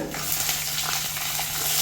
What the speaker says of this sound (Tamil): இதை இப்போ கொஞ்சம் நல்லா வதக்கிக்கலாங்க